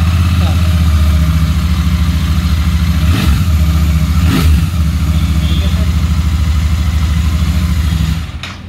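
A motorcycle engine idles steadily at close range with a low, even rumble and a couple of brief surges, then cuts off just before the end.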